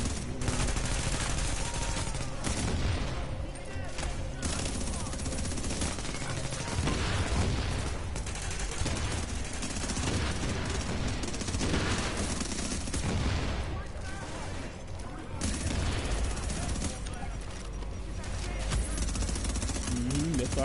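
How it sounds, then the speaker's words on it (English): Shotgun and other gunfire in Tom Clancy's The Division, an Incursion mission on PS4 Pro, crackles in a steady, loud stream of overlapping shots and bursts, with a player talking over the combat throughout. "That shotgun is just nasty"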